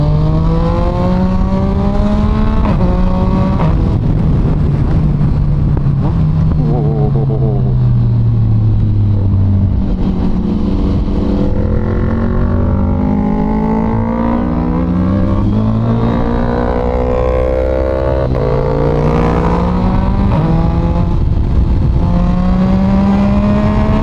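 A Yamaha MT-09 motorcycle engine revs hard through quick-shifter gear changes, each climbing whine cut short by a sharp shift and then rising again. It is loud and close throughout and keeps roaring for the whole stretch without a break.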